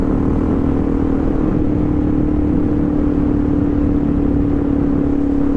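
Steady engine drone from a 2021 Suzuki DRZ400 ridden off-road, a loud continuous hum with a constant tone and rumbling texture throughout, with no speech.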